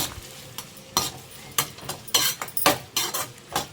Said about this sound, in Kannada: ಈ ರೀತಿಯೇ ಎಲ್ಲ ಕಟ್ ಮಾಡ್ಕೊಂಡಿದ್ದೀನಿ ಚೆನ್ನಾಗಿ ಮಿಕ್ಸ್ ಮಾಡ್ಕೊಳ್ಳೋಣ